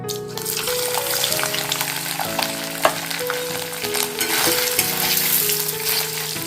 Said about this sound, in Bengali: তেলটা আমার গরম হয়ে গেছে আর পনিরগুলোকে দিয়ে দিচ্ছি ভাজার জন্য